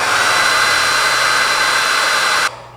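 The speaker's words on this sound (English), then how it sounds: "Let's see how a hairdryer does." An 1875-watt hair dryer runs on high power through a 2022 WZRELB 3000-watt inverter, giving a loud, steady whooshing drone with a fan whine that cuts off abruptly just before the end.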